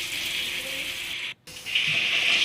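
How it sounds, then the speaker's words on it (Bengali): A small splash of water poured from a tap or jug into spice masala frying in a pan for a Pangas fish curry, a steady hissing gush with a brief gap midway, then continuing close and alone. "তারপর মশলাটাকে ভালো করে কষানোর জন্য আমি একটু সামান্য জল দিয়ে দিলাম।"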